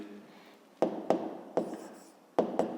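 Hand-writing a math solution, probably chalk on a board, with a handful of sharp close taps and short scraping strokes over a faint background hum.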